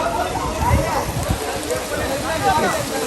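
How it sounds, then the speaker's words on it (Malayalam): Water pours steadily from an elephant-shaped spout into a pool at a nature resort, making a continuous close splashing rush beneath people talking. "ഒരു ആനയുടെ വായന വെള്ളമൊക്കെ വരുന്നുണ്ട്."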